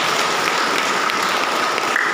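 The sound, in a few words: audience applause at church anniversary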